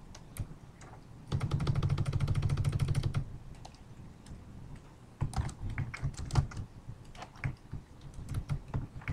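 Fingers type on a computer keyboard for a library title search, a quick run of soft close key clicks followed by a pause and then more scattered keystrokes.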